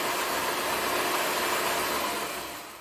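A Shopsmith woodworking machine runs steadily and smoothly with a constant, even whir and no knocks or clunks, its level slowly easing off near the end.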